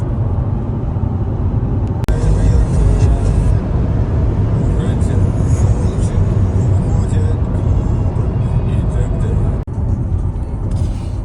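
A 2021 Ford Escape hybrid cruising on a highway at roughly 110 to 130 km/h, heard from inside as a loud, constant rumble of road and wind noise that holds steady throughout.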